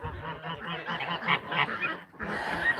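Domestic fowl, likely guinea fowl, calling in a backyard poultry flock: a dense run of harsh, overlapping honking cries close by, continuing steadily with a brief dip near the end.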